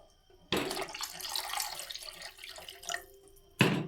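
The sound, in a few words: water being added to a cooking pot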